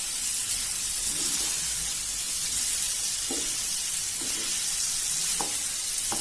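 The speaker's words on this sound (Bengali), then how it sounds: "এভাবে একটু নেড়ে নেড়ে রান্না করবো, যাতে মশলাটা মিশে যায় ভালোভাবে সব ফুলকপির সাথে" Cauliflower fries with spices and yogurt in a pan for a vegetarian curry, sizzling in a steady close hiss while a spoon scrapes and stirs in a few brief, soft strokes.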